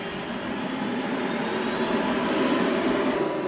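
Helicopter engine running with a loud, steady whine and roar that holds constant, a faint tone slowly rising in pitch throughout, close and continuous with no voices.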